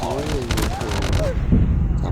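Gunfire in Call of Duty Mobile, a rapid burst of close, loud shots over a dense game backdrop while a player talks over it.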